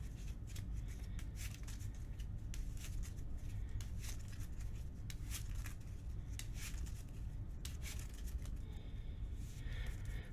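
Quiet, close riffling and flicking of a Marvel Champions card game deck being shuffled by hand, a run of soft crisp bursts over roughly ten seconds with no speech.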